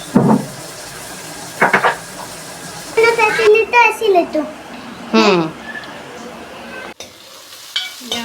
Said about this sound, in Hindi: यहाँ पर प्याज ब्राउन हो रही है